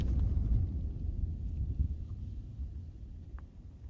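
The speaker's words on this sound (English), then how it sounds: "There's some thunder happening over there" Thunder rolls in the distance at a campsite, a deep low rumble that swells and slowly fades, with a little wind noise and no voices.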